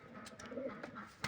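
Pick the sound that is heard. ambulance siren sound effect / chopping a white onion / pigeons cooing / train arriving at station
pigeons cooing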